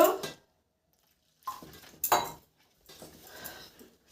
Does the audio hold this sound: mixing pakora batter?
yes